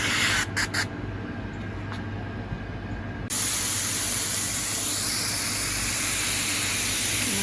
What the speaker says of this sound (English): I'm just going to take my cooking oil and spray the grill.